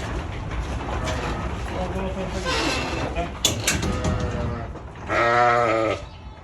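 Lambs bleat in a new barn, with one clear loud bleat near the end following a stretch of someone talking over faint background calls.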